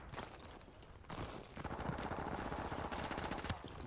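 Rapid automatic AK-74U gunfire in the Modern Warfare Remastered video game, a dense, steady stream of loud shots sustained through most of the clip after a brief shorter burst.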